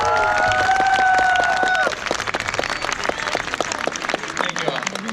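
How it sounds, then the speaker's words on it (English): A large audience at a high school graduation ceremony applauds in sustained, dense clapping that fills the whole clip, briefly under a held musical tone at the start, with some crowd noise mixed in. "Please give all of our valedictorians a big round of applause for their accomplishments."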